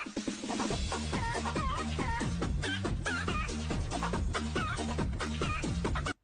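Backyard chickens clucking and squawking in a dense flock chorus, loud and close, mixed with steady rhythmic music that runs throughout.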